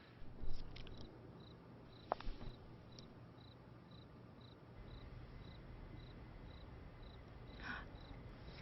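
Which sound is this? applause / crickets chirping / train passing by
crickets chirping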